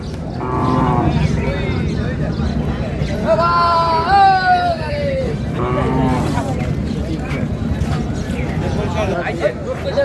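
Cattle at Raniganj cattle market in Dinajpur bellow and moo with several long, loud calls amid a steady murmur of crowd voices and market bustle.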